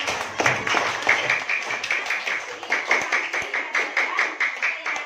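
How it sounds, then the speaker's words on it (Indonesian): Students in a classroom clap their hands together, starting as a loose burst and settling into a regular, rhythmic beat that carries on alone to the end. "Tepuk tangan dulu semuanya."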